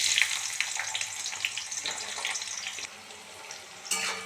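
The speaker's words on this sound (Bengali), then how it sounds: "তেল আমার গরম হয়ে গেছে। এরপর দেব পেঁয়াজ।" Onions sizzle steadily after going into hot white oil in a pan, a continuous close frying hiss with a brief louder crackle near the end.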